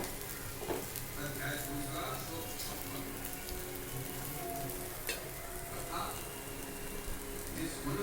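Dosa batter with onion, pressed onto a hot griddle, gives off a steady, dense sizzle that stays even and close for the whole stretch, with a few faint scrapes and some soft talk in the background.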